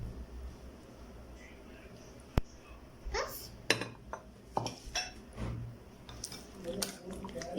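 Spoon and bowl clinks and scrapes as marinade is mixed into chicken for tandoori chicken, close by and irregular, with a few sharper clatters over low kitchen hum.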